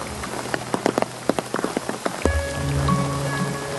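Rain falls steadily in a hydrangea park in July, with close raindrop taps and patters striking surfaces over a constant wash of downpour, no voices present.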